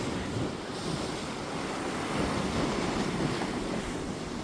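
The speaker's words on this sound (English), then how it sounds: "it's good to put the sounds of the sea on" Sea waves play as a steady sound effect, a continuous broad wash of surf with a soft hiss and no voices.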